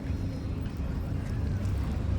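Island-hopping boat engines drone in a low, steady rumble nearby at El Nido, Palawan, with wind buffeting the microphone.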